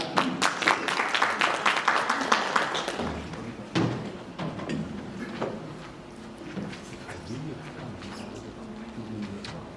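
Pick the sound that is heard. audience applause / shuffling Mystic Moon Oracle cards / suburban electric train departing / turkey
audience applause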